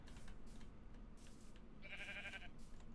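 A sheep in the video game Minecraft gives a single wavering bleat at moderate volume over a constant background noise, with no talk during it.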